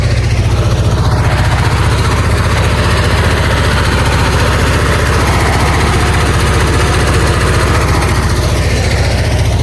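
A 34-year-old van idling after a carburetor adjustment: a loud, steady, low mechanical rumble with a fast, even engine pulse that holds unchanged throughout, with no talk.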